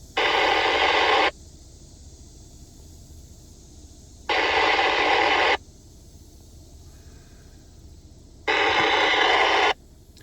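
Three bursts of harsh radio static, each about a second long, separated by quieter background hiss, as from a handheld radio with poor reception.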